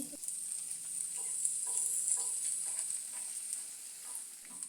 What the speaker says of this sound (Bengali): এখন গরম তেলের মধ্যে চিরাগুলো দিয়ে দিচ্ছি